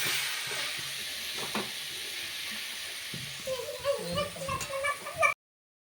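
A spoon stirs taro stolon curry in a sizzling pan of oil, with a steady frying hiss and irregular scraping, clinking strokes that grow busier toward the end.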